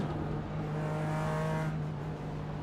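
A race car in iRacing drives alongside on the right, its engine a steady, loud droning hum with a strong held pitch that barely changes over a couple of seconds.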